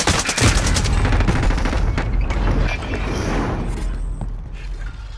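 Dense, loud bursts of rapid gunfire in Call of Duty: Modern Warfare, with rattling shots and booming impacts crowding the first few seconds before settling into scattered shots and background battle noise; no talking.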